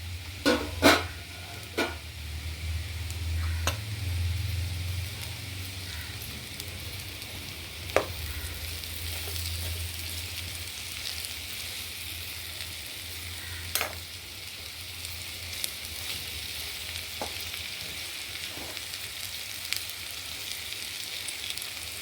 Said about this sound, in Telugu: అల్లం వెల్లుల్లిపాయ బాగా ఇలాగ ఫ్రై చేసుకున్నాం కదండి